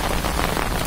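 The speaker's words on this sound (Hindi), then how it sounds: "ये देखो काफ़ी ज़्यादा बारिश हो रही है" Heavy rain pours down outdoors near the Mansa Devi temple in Sandhole, Himachal Pradesh, a dense and loud continuous hiss of drops with no voices.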